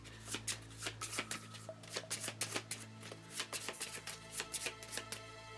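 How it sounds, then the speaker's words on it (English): A reaction deck of cards for the Metal Gear Solid board game is shuffled in quick riffling bursts, a soft flurry of papery flicks repeating several times, close by and fairly quiet. "I'm going to have to shuffle the reaction deck."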